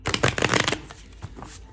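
Oracle cards shuffle in a quick, crisp riffling burst, then fall into a few soft slides and taps as cards are pulled.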